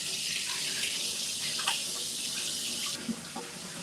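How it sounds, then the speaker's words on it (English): Hands washed under a running tap in a kitchen, a continuous even rush of water hitting the sink basin, close and steady throughout. "can you guys see me washing my hands?"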